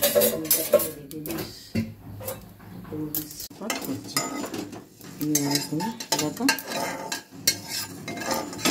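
Whole panch phoron spices dry-roasting and stirred in a hot dry pan with no oil, with repeated metal scraping, clinks and rattles of a utensil against the pan in an irregular rhythm, close and fairly loud.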